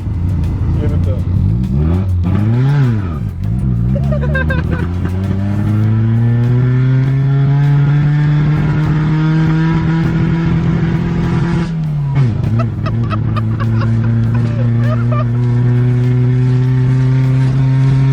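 A cheap Mazda Miata accelerates hard down a straightaway, its engine note climbing loud and close through the gears with a brief dip at a shift, while people talk over the roar.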